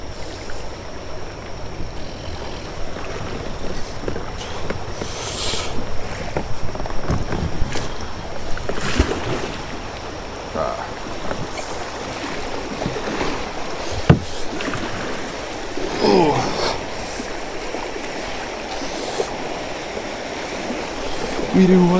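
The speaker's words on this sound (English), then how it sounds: "I gotta hop in and get ready to paddle" A kayak is paddled through a river rapid, with steady rushing whitewater, wind buffeting and occasional splashes and paddle strokes heard close by for over twenty seconds.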